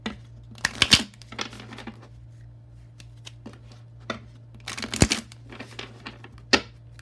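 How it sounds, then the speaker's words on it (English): Tarot cards being shuffled and pulled, with scattered light papery flicks, snaps and slides in irregular bursts against a faint steady hum, close and moderately quiet. "I'm going to pull some insight cards to see what they say."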